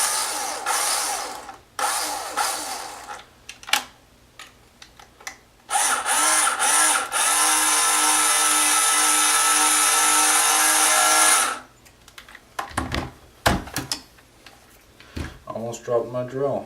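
A cordless drill drives screws into a tricopter main frame, giving a close, loud whirring burst of several seconds after shorter bursts and clicks, with handling clatter and brief talk around it.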